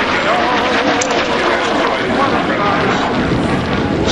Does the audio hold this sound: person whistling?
no